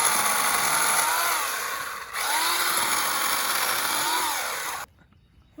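A Craftsman 8-amp corded electric chainsaw with a 14-inch bar cuts through wood with a loud, close, buzzing whine that dips briefly under load, resumes, then cuts off abruptly near the end.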